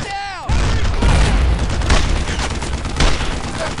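Heavy gunfire and booming blasts from the World War II shooter Brothers in Arms: Earned in Blood, a loud continuous barrage beginning abruptly after a brief whooshing sweep and holding steady throughout.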